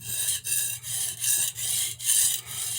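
A santoku knife is drawn across a sharpening stone in repeated strokes, making a close, gritty rasping scrape with brief pauses between about six passes.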